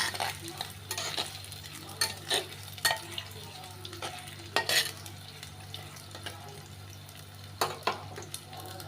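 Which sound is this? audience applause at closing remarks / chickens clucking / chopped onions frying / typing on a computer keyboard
chopped onions frying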